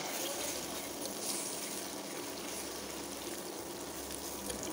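An egg frying in hot oil in a wok on an induction stove, a steady close hiss and crackle of sizzling that holds at an even level throughout.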